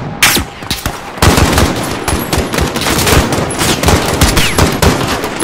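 Rapid, sustained machine-gun and rifle fire from the Call of Duty: Modern Warfare video game, a dense barrage of loud cracks and bursts rattling continuously across a battlefield with no pauses.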